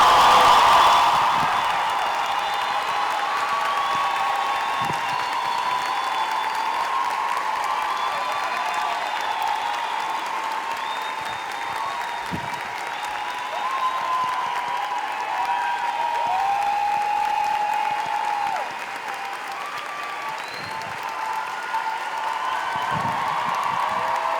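A festival audience at the opening of the 12th Festipoa Literária applauds to welcome a special guest, with sustained, dense clapping and scattered cheers that stay steady and fairly loud throughout, no talking over it.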